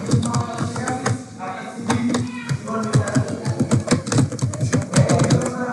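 Rapid typing on a computer keyboard, a dense stream of close, crisp key clicks in uneven bursts, heard under a person talking.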